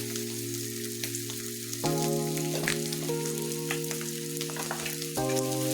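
Food sizzles and fries steadily in a pan as it is stirred, with soft scraping and bubbling under a continuous hiss and no voices.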